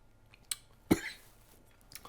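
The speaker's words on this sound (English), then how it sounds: "First sip cough." A single sharp cough after a first sip of 120.5-proof spirit, close and brief, preceded by a small click, then quiet.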